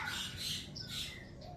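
Birds squawk repeatedly at a Bali homestay, shrill calls coming in overlapping bursts at moderate distance over faint background noise, with no talk.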